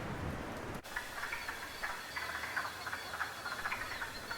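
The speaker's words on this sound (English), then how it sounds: "One of the first amphibians on the scene, even before the snows have melted, is the noisy wood frog." Wood frogs chorus from a vernal pool in a hardwood deciduous forest, a dense overlapping clucking of many callers, steady and moderately near throughout.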